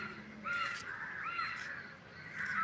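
A crow caws several times in a row, harsh drawn-out calls fairly close, with faint background noise between them.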